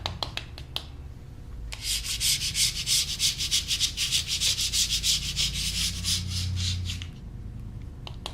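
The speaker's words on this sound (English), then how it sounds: "We've just applied it and we're able to take the sealer right up." Softened sealer is scraped off a surface after a power stripper has been applied: a few sharp ticks, then a run of quick, rhythmic rasping strokes close by that fade to a few last taps.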